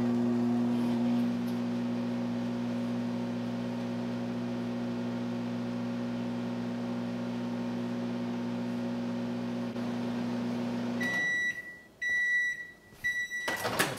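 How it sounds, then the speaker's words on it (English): A microwave oven hums steadily for several seconds while melting homemade shaving soap, then falls quiet and beeps several times. "Then just open your microwave. We'll put it in there for 20 seconds."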